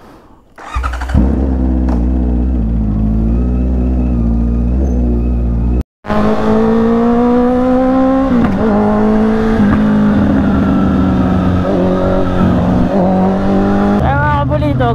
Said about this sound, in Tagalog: pinapagulong ko lang yung motor